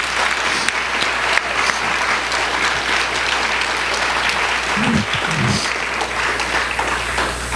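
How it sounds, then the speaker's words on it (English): A large audience at a TRIO Day student speakers event applauds steadily, a dense wash of clapping that holds at full strength throughout. "Please join me in a final round of applause for all of our student speakers today."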